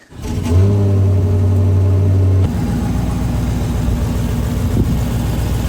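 An AWD Hemi Dodge Charger engine cranks and catches with a loud starter whine, then revs hard for about two seconds before settling into a steady, rumbling idle close by.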